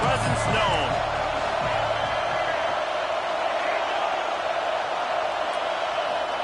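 Large stadium crowd at a football game roaring continuously, a dense wash of cheering voices holding loud and steady, with a brief murmur of nearby talk at the start.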